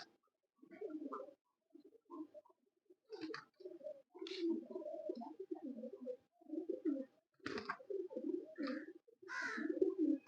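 Champion racing pigeons coo softly and repeatedly close by in a loft during the winter season, low throaty calls in uneven bursts with occasional faint chirps.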